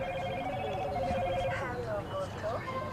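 An old-style phone ringtone trills steadily near a high school varsity baseball game, a loud repeating electronic ring that carries over crowd murmur and voices at the field.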